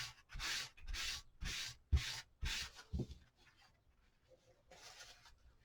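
Antique wax being rubbed onto a wooden piece for an aged finish, heard as about six close, steady rhythmic rubbing strokes that then fade into fainter, scattered wiping.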